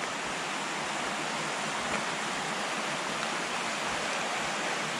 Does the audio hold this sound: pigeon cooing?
no